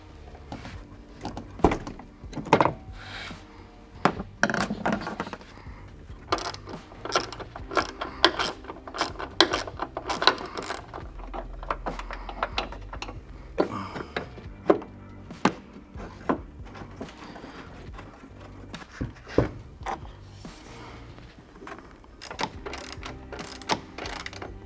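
A hand ratchet clicks in quick bursts while removing hood strut bolts on a Ford F150. Short, sharp ratcheting runs alternate with pauses and small metallic knocks, close and fairly quiet.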